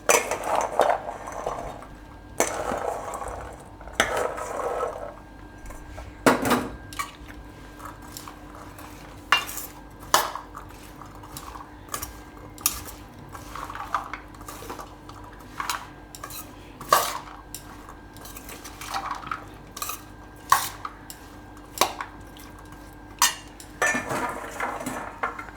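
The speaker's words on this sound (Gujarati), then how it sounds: "તો હવે આપણે આમાં નાખી દઈશું આ ચણા." Chickpeas being mixed into a chana salad in a bowl, with repeated spoon clinks and scraping against the dish in an irregular rhythm, close and moderately loud, no speech.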